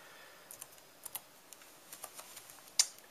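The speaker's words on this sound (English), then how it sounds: "we simply type in Smith case" A computer keyboard is tapped in a short, irregular run of soft, close keystrokes while a file name is typed, ending with one sharper key press.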